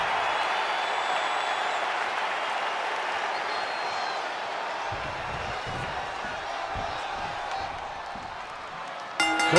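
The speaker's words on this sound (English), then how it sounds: "This crowd showing their appreciation." Video game wrestling arena crowd in WWE 2K23 applauding and cheering, a steady dense roar of clapping that holds for several seconds before a sharper burst near the end.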